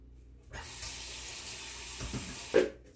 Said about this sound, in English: I'm going to give these leaves a quick rinse.